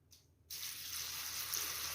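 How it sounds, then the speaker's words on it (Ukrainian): Running tap water pours steadily into a bowl of salted water as honey mushrooms are rinsed, a continuous splashing wash that begins abruptly and stays even and close. "Тобто набрали ми води і гарно вимиваємо їх."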